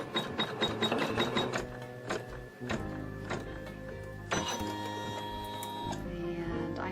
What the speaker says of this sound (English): we are going to let the machine sew a seam